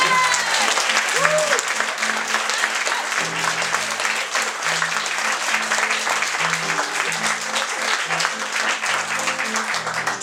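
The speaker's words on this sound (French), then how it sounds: "On peut encore applaudir bien fort la première partie." A concert audience applauding the opening act of a French song evening, dense sustained clapping throughout, with a voice and some instrumental tones sounding over the crowd.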